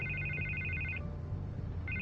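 A telephone rings with a repeating electronic trill that stops for under a second and then starts again, heard alone over a low, steady background hum.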